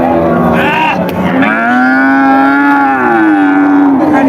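A large Friesian or crossbred cow at a cattle market lets out one long, loud, close moo that swells and holds for several seconds, with no talk over it.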